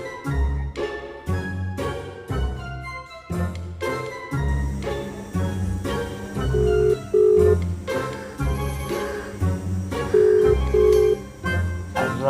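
A telephone rings in repeated short electronic bursts over loud background music, the ring tones recurring in pairs near the end.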